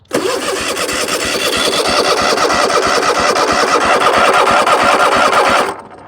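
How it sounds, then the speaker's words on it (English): The engine of an abandoned Cub Cadet mower fires up and runs loud and close with a steady, rapid mechanical chatter for about five seconds, then cuts out abruptly. "now we can see if this thing will actually pump fuel and fire"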